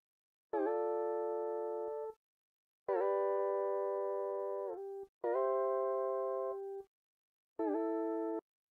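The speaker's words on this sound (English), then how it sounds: "So this sound basically was just soft guitar with pitch bend." An Ableton stock soft guitar sound with pitch bend, playing four separate sustained chords, each starting with a bright attack and slightly bending and fading before silence.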